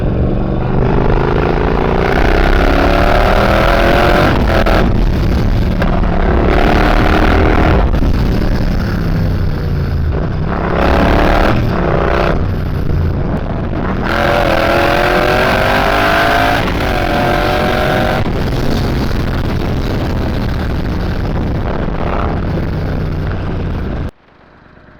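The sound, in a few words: motorcycle riding and revving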